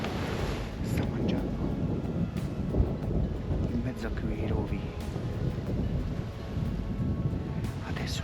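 Steady wind buffets the microphone outdoors in the Apennine mountains with a low, rumbling roar that persists throughout, with occasional faint ticks above it.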